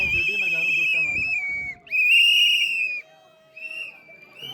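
A whistle is blown in two long, loud, shrill blasts separated by a short gap, with voices faintly underneath.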